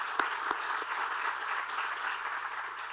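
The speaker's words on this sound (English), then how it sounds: "let's give another round of applause to Governor Kathy Hochul" Audience applauding at a governor's announcement event, a soft, fairly distant wash of clapping with a few sharper nearby claps standing out early on.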